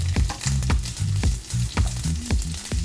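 Sliced onions tipped into very hot oil in a pan for a simple vegan curry, giving a steady close sizzle broken by several sharp crackling bursts and low stirring clunks.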